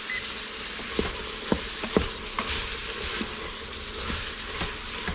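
Food searing in a pressure cooker before red beans go in, a steady close sizzle with a few sharp spattering pops and stirring scrapes, continuous throughout without talking.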